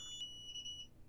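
DSC Neo security system keypad going into alarm after its countdown, a faint high-pitched electronic beeping in short repeated tones over a quiet room.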